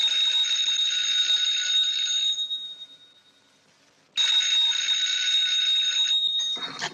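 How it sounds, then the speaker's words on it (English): An old 1940s telephone bell rings loudly in two long, steady bursts separated by a short silent pause, with no voices over it. "Haven't I told you not to answer the phone at night?"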